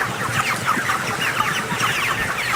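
Month-old chickens crowded in a poultry farm shed in Anseong, Gyeonggi Province, cluck and chirp in a dense, continuous chorus, close and loud with many overlapping calls.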